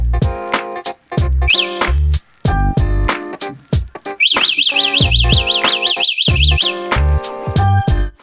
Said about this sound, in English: the alarm is in working order by arming and disarming the system